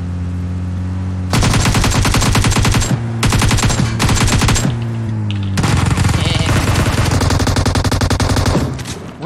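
Loud automatic gunfire in PUBG Mobile, sustained rapid bursts broken by short pauses, close and dominant, ending in a long continuous volley.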